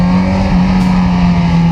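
Kawasaki Z900 2022 motorcycle engine running steadily on a test ride, a loud, continuous close-up drone with a strong low hum and slight changes in pitch, no talking.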